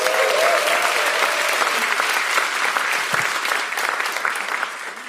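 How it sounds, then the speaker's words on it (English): Sustained audience applause fills a historic museum venue at an anniversary event, loud and dense throughout, tapering slightly at the end. "Let's give them a round of applause"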